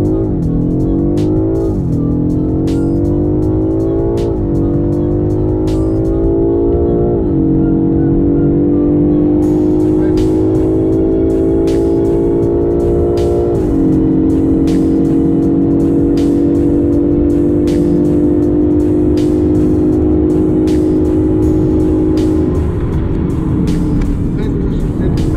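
A 625 hp BMW M5 Competition launches from a standstill, its engine roaring loudly as the revs climb in repeated rising surges with brief dips between shifts, then settling into a sustained high drone.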